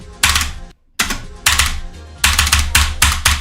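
Bursts of rapid key clatter on a computer keyboard, close and loud, in several clusters with a brief silent pause early on and quick repeated presses toward the end.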